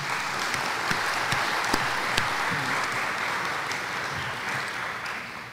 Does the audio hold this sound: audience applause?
yes